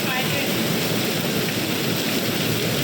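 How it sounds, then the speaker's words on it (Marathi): Dense, continuous splashing of water pouring down from above inside a dam tunnel, a loud steady rush like heavy rain or a downpour. "इकडून वरतून पाणी येते"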